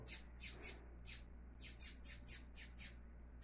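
A baby bird squawks insistently in a rapid series of about a dozen short, shrill, raspy calls, close by against a quiet background hum.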